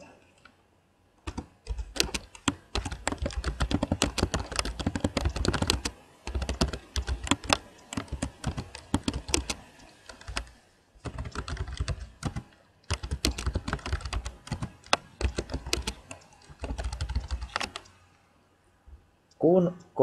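Rapid bursts of keystrokes clatter on a computer keyboard while typing into a QR code generator's text field, close and crisp, broken by short pauses between runs of typing.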